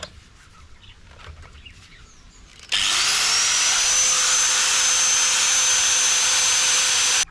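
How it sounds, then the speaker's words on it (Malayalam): A power tool, likely an angle grinder, cuts a piece at an angle for mounting a top box on a Honda Grazia scooter, starting abruptly after a quiet lead-in and whining loudly and steadily at close range with no talk. "നമ്മൾ ഇപ്പോൾ ചരിച്ചാണ് കട്ട് ചെയ്യുന്നത്."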